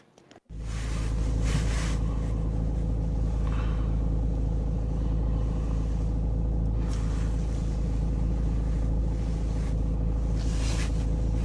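A car drives steadily with a loud, constant low engine and road rumble filling the whole span after a brief quiet start, no talk over it.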